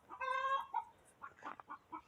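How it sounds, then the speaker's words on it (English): Chickens clucking in a backyard garden, a drawn-out squawk followed by a string of short, moderately close clucks, with no talking over them. "I'm sure you can hear the chickens"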